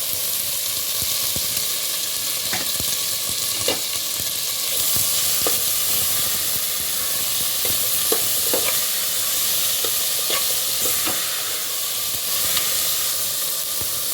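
Gongura paste fries in hot oil for a tomato curry, giving a continuous close sizzle and hiss. Scraping stirring strokes break through now and then, and no voices are heard.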